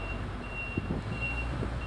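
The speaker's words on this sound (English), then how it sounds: "now you gotta speak as if there's a garbage truck backing up right 20 feet away from you" A garbage truck backing up nearby sounds its steady reversing beeps, a repeating high electronic tone riding over a constant low engine rumble, fairly loud and alone without voices.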